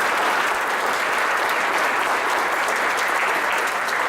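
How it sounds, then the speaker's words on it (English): Steady, dense applause from an audience honoring students at a spring alumni reunion ceremony, loud and continuous throughout without speech. "Please give them a round of applause for their accomplishments."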